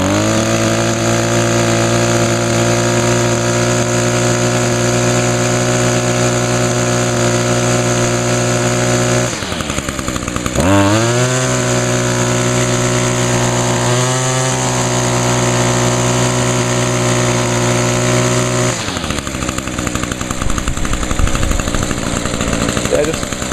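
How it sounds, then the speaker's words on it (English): A small two-stroke engine idles steadily after a Seafoam treatment, a buzzy rattling drone that dips and stumbles twice before picking back up, heard up close without clear talk. "Just letting it idle a little bit to kind of allow some of that Seafoam to actually"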